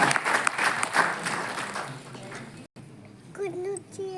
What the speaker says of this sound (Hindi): जोरदार तालियों के साथ हम आभार व्यक्त करें